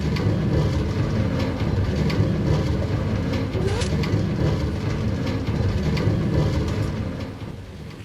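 The Perpetuum locomotive from a video game rolls steadily along its track, giving a continuous rumbling mechanical drone with faint clicking that stays even and close before easing off at the end.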